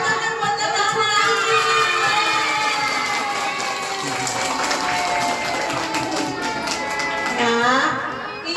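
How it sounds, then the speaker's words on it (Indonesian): A group of young children applauding together at an early-childhood reading event, sustained close clapping mixed with their excited voices and chatter. "Tepuk tangan buat anak-anak."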